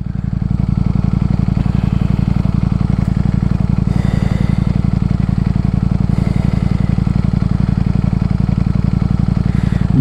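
A Ducati StreetFighter V4 motorcycle held at full throttle, a loud, dense, steady engine roar running continuously at close range with no letup.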